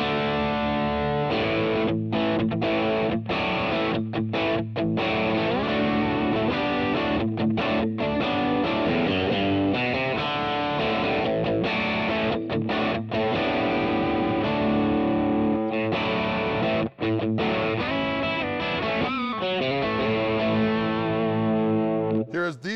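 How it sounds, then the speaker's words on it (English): Fender Custom Shop 1959 Stratocaster Relic electric guitar played through distortion on the back (bridge) pickup: loud, sustained overdriven chords and riffs with brief pauses between phrases, no talking. "Let's grab a little distortion on here and see what these pickups sound like."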